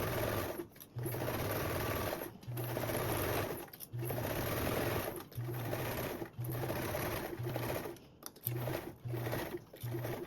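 A sewing machine basting binding onto a duffle bag panel with a one-eighth inch seam, running in a string of short bursts that stop and start with brief pauses, close and steady with no talking.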